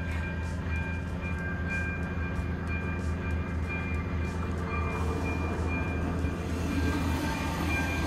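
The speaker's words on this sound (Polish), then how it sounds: "Patrzcie, pociąg." A train passes on tracks that curve, a steady, loud rumble with low mechanical droning and faint rail squeal that holds throughout.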